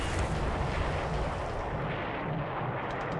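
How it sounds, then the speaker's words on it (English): Fuel storage blowing up in a naval war video game set in the Battle of the Coral Sea, a loud sustained roaring rumble of explosion noise that fills the whole stretch without letting up. "Fuel storage explosion."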